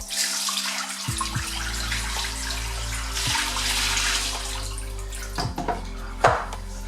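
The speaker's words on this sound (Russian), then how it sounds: "Теперь сливаем эту воду." Water pours and splashes steadily as it is drained from a pot of pig's feet into a sink, with a few clanks of the pot partway through.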